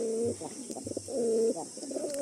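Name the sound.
pigeons cooing in a loft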